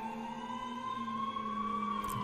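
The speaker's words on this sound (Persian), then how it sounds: "با آژیر پلیس وقتی شروع بشه یعنی چی؟" A police siren wails at the opening of a song, a steady rising tone, loud and close, heard alone without voices.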